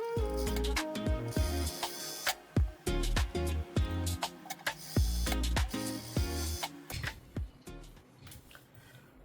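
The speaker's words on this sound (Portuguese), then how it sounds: "Essa costura é na overlock." An overlock sewing machine stitching the crotch seam of knit trousers, heard as rapid mechanical whirring bursts broken by short pauses and clicks, close and fairly loud with no talking.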